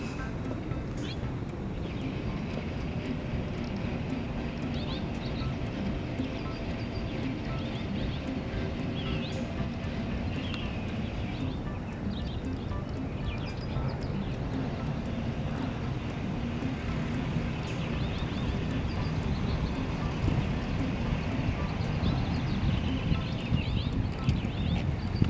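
A small airplane engine runs steadily before a Cub Scout flight, a continuous low droning hum with wind-like noise that holds at a constant level throughout, close by and alone without talk.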